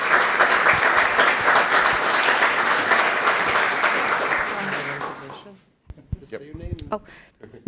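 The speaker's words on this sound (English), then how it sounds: "can we give this group here a big round of applause that do a great job?" Applause for parks department staff at a county commissioners' meeting: about five seconds of steady, loud clapping from a room that fades out, followed by a person starting to speak.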